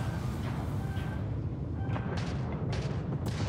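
Spaceship weapons fire in a space combat sequence from Starfield, producing several short sharp bursts over a steady low engine rumble, with no talking.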